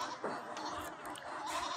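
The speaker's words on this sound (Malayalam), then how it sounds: "ഇവിടെ നല്ല ആട്ടിൻകുട്ടികളെ വാങ്ങി കെട്ടിയിരിക്കുകയാണ്." Young goat kids bleat at a goat market in Kerala. Short, nasal calls come a couple of times over the busy background murmur of the market, with faint talk nearby.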